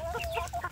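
Free-range village chickens clucking outdoors, with a short run of soft, nearby clucks and calls that rise and fall over a low steady background hum.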